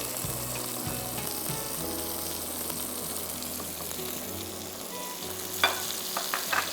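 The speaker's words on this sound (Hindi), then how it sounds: "थोड़ा सा हम इसको हल्का सा फ्राई करते हैं।" Crushed garlic and chopped onion frying in a pan, a steady close sizzle with stirring scrapes and a few sharper clicks near the end, no voices.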